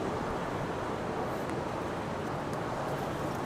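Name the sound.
strong wind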